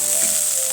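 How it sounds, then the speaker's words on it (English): Onion and garlic sizzle in coconut oil in a frying pan, a brief, even crackling hiss heard close up and alone. "The onion and garlic just fry for about 2 minutes"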